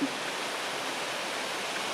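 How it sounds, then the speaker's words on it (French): A waterfall rushes beside a mountain bivouac on Corsica's GR20 trail, a dense, steady broadband roar that is loud and close and never changes. "au bord d'une cascade."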